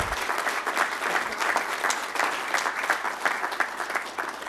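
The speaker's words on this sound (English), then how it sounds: "would everybody please give him a round of applause" Applause from the audience at a city mayor and aldermen meeting, a continuous wash of many hands clapping at moderate volume, fairly even from start to end.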